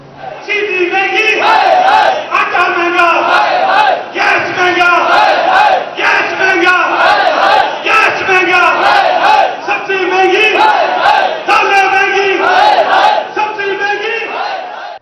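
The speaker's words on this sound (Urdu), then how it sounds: "مظاہرین کی جانب سے حکومت کے خلاف شدید نعرے بازی کی گئی ہے" Protesters in Multan chant slogans against the government over inflation and unemployment at Kachehri Chowk, a loud, rhythmic crowd call-and-response repeating steadily throughout with no pauses.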